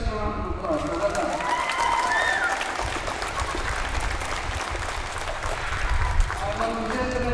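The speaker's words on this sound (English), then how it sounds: "So give yourself a round of applause." A crowd applauds at a primary schools' Cumann na mBunscoil football final prize-giving, a steady broad wash of clapping lasting throughout with voices mixed in underneath.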